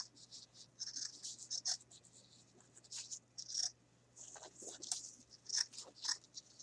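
Scissors snip through a small strip of fabric for a wrapped bangle bracelet craft, giving a series of short, crisp, close cuts in irregular bursts over a quiet room hum.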